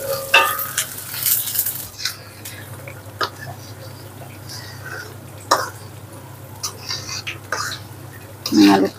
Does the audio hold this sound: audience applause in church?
no